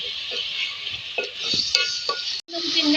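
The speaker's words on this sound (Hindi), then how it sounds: "अपनी इसको फ्राई करें अच्छी तरीके से" Beef pieces frying in a pan for a restaurant-style arvi gosht, a steady close sizzle with intermittent stirring scrapes and light clinks of a spoon against the pan, no talking.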